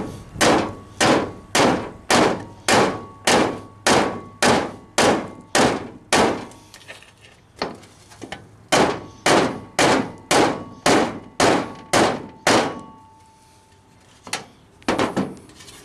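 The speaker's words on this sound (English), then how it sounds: "so try the ball peen side." A ball peen hammer strikes a metal air cleaner in a fast, steady run of loud, sharp clanking blows, pauses briefly, then resumes with more hits and a few lighter taps near the end.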